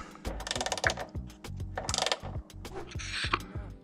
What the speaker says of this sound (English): So it's a number 10 socket, a 10 millimeter socket. Okay, I'm just going to do it up just lightly